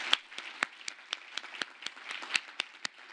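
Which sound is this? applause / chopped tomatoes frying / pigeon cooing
applause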